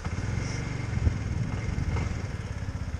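A Qooder 400 scooter engine running steadily close by after start-up, a continuous low rumbling idle with even mechanical pulsing and no talk over it.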